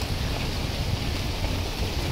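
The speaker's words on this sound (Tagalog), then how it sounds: "kahit umuulan yan" Rain falls at Maragaha Campsite in Botolan, Zambales, during a thunderstorm, giving a soft, continuous hiss with a low rumble beneath and no distinct individual drops.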